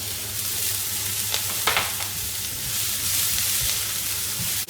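Chopped garlic frying in a pan gives a steady, bright sizzle with a few short scraping stirs, close and moderately quiet, with no voices.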